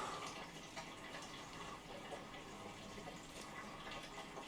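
Water poured steadily onto potted houseplants in a large IKEA plant cabinet, a faint continuous trickling and splashing without pauses.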